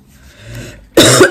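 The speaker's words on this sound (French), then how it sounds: "Ah, excusez-moi, je tousse encore" A single loud, harsh cough bursts out after a short breathy lead-in, close to the microphone.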